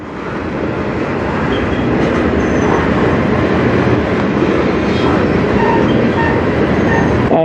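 A long CN freight train rolls through a rail yard on the Strathroy Sub with a loud, steady rumble and clattering wheels, close by and continuous, with faint squeals now and then.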